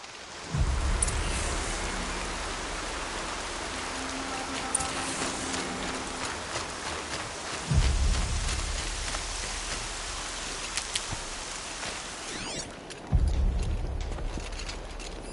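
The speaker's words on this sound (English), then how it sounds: "More rain. My boots will get damp." Steady rainfall in the video game Horizon Zero Dawn, a soft, constant hiss of drops on surfaces, broken by three deep low rumbles at intervals like distant thunder.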